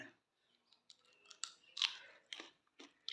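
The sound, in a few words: biting a green chili dipped in salt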